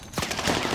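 Rapid gunfire bursts in the video game Warzone, with several overlapping shots crackling close and loud in a short, dense volley.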